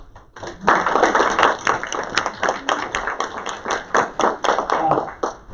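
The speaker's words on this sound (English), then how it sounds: "just a short applause for Lily" A school board meeting audience gives a short round of clapping, dense and fairly close, lasting several seconds with claps tapering unevenly toward the end.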